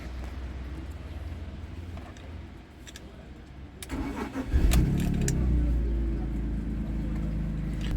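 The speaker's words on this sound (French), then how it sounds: "Un petit cold start, elle est froide je crois." A car cold start: quiet ambience with a few clicks, then the starter catches and the engine fires with a loud rev, settling into a steady, elevated idle close by, with some talk before it starts.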